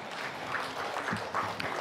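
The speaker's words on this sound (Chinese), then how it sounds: "让我们以热烈的掌声欢迎廖东洲大使及夫人朱迪师姐" An audience at a temple group practice session applauding to welcome guests, a dense, steady wash of clapping from many hands at moderate distance throughout the short span.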